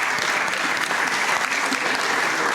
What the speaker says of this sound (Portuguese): A maestrina, para quem peço desde já uma salva de palmas, é Ana Almeida.